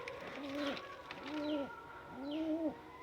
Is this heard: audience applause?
no